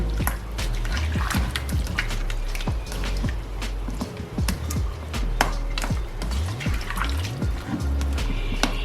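Raw chicken pieces are stirred and squished in water in a cooking pot for a karahi gosht recipe, with steady wet sloshing, splashes and knocks, close and continuous.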